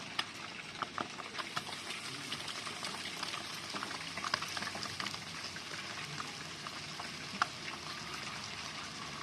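Noodles frying in a pan with already fried ingredients, a faint, steady sizzle and bubbling crackle that continues evenly without pauses and without talk.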